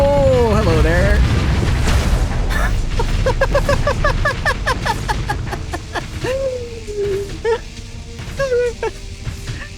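Missile explosions from the space combat game Starsector, a loud continuous rumble of booms overlaid with rapid whooshing and chirping weapon sounds, with a voice speaking over the din.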